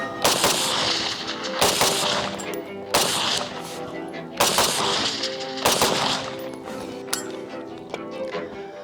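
Sharp gunshots from a Mossberg MMR Pro AR-15 rifle crack out one at a time, about seven over several seconds at steady gaps, each loud and close with a short echoing tail.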